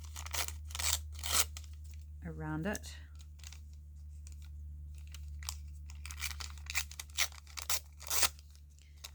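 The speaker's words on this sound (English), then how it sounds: "So I'm just going to fussy tear" Paper torn carefully by hand around a shape for a double journal card craft, giving scattered short rips and crinkles close by, with a person talking over a low steady hum.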